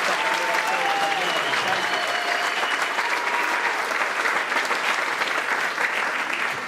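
An audience at a third-grade choral concert claps for the soloists, with dense, sustained applause throughout, loud and close, with faint crowd murmur mixed in.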